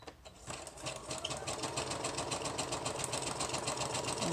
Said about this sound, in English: I'm just re-sewing over the other parts that I've already sewn